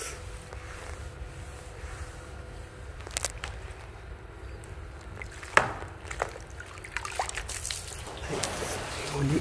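Water trickles and splashes over a wooden deck being rinsed clean of mold and moss, a low steady wash broken by a few sharper splashes and knocks.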